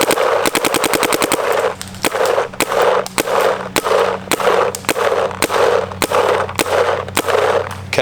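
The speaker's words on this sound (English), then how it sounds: "Let's give you guys some shooting here to look at, a little bit of ramping." Nerf blaster fitted with a Freak barrel kit insert fires in a fast ramping stream: a rapid rattle of dart shots at first, then repeated bursts of rapid, loud, close shots over a steady motor whir.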